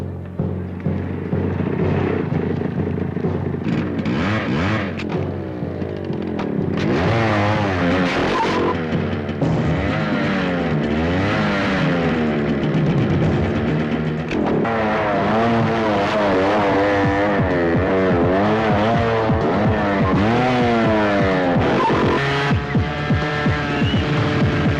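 A motorbike engine in a Telugu film scene, a steady, throbbing hum that rises and falls in pitch as the revs change, continuing loudly for around twenty-five seconds.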